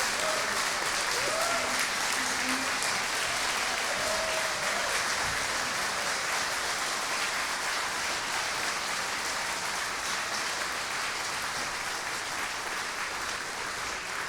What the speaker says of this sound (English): a big round of applause for our 2022 Hall of Fame inductees